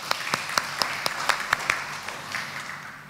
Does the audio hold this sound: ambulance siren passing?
no